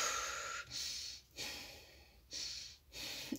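Slow, deep breathing during a sophrology relaxation exercise, heard close and quiet as long airy inhales and exhales separated by short silent gaps, with no talking.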